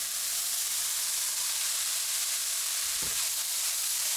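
Carrots and celery for chicken chow mein sizzle in an oiled wok, a steady close hiss of frying that runs throughout with a brief stirring clatter near the end.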